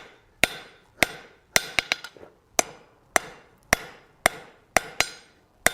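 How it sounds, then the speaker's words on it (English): Sharp hammer blows ring out on steel over an anvil while a ram's head is forged, about a dozen loud metallic strikes in an uneven rhythm, some in quick pairs, each decaying briefly. "We're going to use half on, half off blows. We're going to drive that material out."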